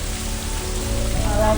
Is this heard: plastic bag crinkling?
no